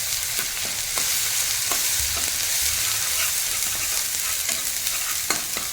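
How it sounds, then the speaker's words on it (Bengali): Masala spices sizzling and frying in a pan for a spicy giant prawn curry, with a spoon repeatedly scraping and stirring, steady and close with no talk. "এই মশলাটাই এখন ভালো করে কষিয়ে নেব।"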